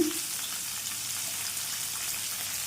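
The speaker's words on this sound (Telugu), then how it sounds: "ఇవన్నీ కూడా మంచిగా వేయించుకోవాలి." Coriander stems and garlic cloves fry in a pan with oil, giving a steady, soft crackling sizzle that stays even throughout, close and unaccompanied by speech.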